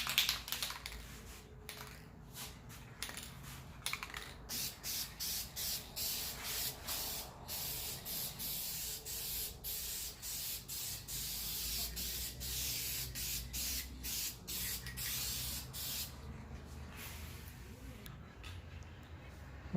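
Second coat of polyurethane sprayed onto a Honda Prelude lip kit from a 1996–2001 model, heard as a steady loud hiss broken into rapid short pulses of spray, one burst after another with little pause, and no talking.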